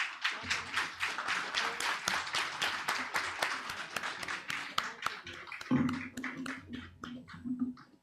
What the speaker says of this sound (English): Can we please have a non-stop applause,